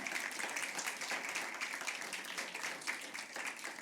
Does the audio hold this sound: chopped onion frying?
no